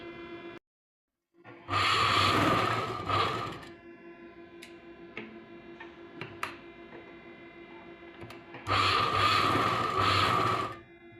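A sewing machine stitches piping onto a Maharani Paithani work blouse in two loud whirring bursts, with softer clicks and mechanical ticks between them and a brief silence before the first run.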